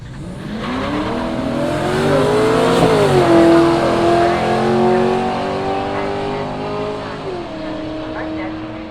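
A Commodore and a twin-turbo V6 Kia Stinger at a street-series drag racing meet at Willowbank, engines roaring loudly as they accelerate, with rising and shifting tones over several seconds before settling into a sustained drone.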